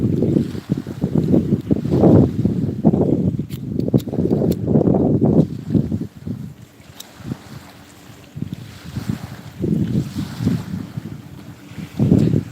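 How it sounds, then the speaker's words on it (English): Wind buffets a microphone outdoors in steady, rumbling low gusts that rise and fall for the whole stretch, with a brief calmer lull in the middle. "It's a little windy on my side,"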